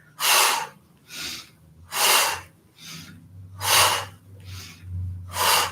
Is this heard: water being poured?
no